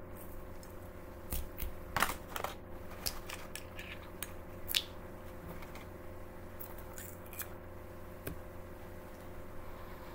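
A package of beard oil samples is ripped open: scattered, quiet crackling tears and papery clicks come in short clusters over a faint background hum.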